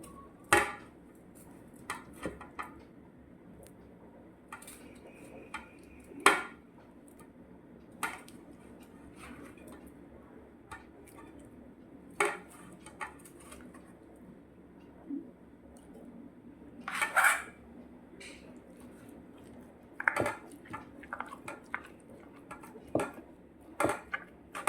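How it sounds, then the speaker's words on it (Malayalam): Cooked beef and tapioca are stirred together in a cooking pot for kappa biriyani, sparse scraping and clinking knocks of a utensil against the pot scattered through a quiet stretch. "ഇനിയും കപ്പ ഇതിൻ്റെ അകത്തോട്ട് ഇട്ട് മിക്സ് ചെയ്യാവേ."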